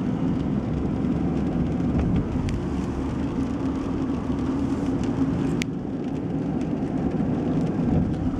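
Steady, dense rainfall hisses continuously in rural Spencerville, Ohio, with a couple of sharp clicks and a low background rumble throughout.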